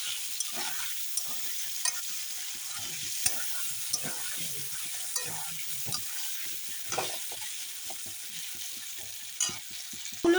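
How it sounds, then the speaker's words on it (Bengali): Potato pieces frying in oil with turmeric, stirred repeatedly in the pan, giving a soft continuous sizzle broken by frequent scraping and clattering stir strokes. "এখন আমি আলুটা ভালো করে নেড়ে চেড়ে ভেজে নিচ্ছি"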